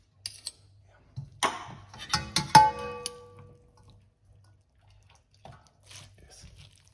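Starchy pasta water goes into a pan of spaghetti carbonara while it is stirred: a cluster of clanks, splashes and drips in the middle, then quieter scraping and light clinks with long near-silent gaps.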